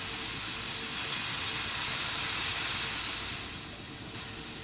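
Water spray washes bananas in a processing factory, a dense, continuous loud hiss that swells slightly midway and then eases off.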